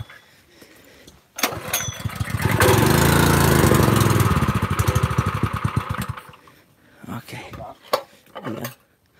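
Gasoline pressure washer engine cranked with bad old fuel and nearly empty tank, a loud sustained burst of churning engine noise that sputters for a few seconds then dies, with faint clatter before and after.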